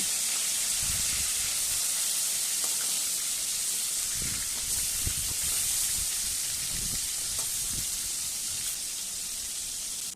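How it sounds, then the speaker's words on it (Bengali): Rohu fish fries in hot oil, giving a constant dense hiss and crackle with scattered soft pops, steady and close throughout. "দুদিকে হালকা সোনালি রং ধরা পর্যন্ত ভেজে নিয়ে মাছকে নামিয়ে নিচ্ছি"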